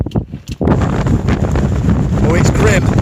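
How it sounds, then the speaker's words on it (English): Strong gusty wind buffeting the microphone outdoors on an upland Pennine Way hike, loud roaring rumble that surges in after a brief quieter moment and continues steadily. "Oh, it's grim. It's breezy."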